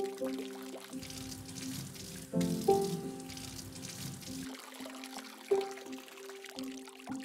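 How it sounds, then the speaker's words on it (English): Cabbage and mushrooms being rinsed under water in a kitchen, a steady close pour and trickle from a tap running through the whole stretch, with a few brief clunks and bumps as the vegetables are handled. "Rinse the cabbage and mushrooms with water."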